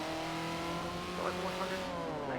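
A 191-horsepower Kia drifts, its engine holding a steady, humming tone under a brief tire squeal, fairly faint and heard without talk.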